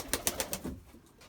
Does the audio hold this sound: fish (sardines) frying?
no